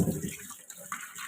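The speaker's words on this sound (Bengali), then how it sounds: "এবার আমলকিগুলোকে আমি ভালোভাবে ধুয়ে নিই বেসিনে।" Tap water runs into a basin while amla (Indian gooseberries) are being washed, a short close splashing rush at moderate level.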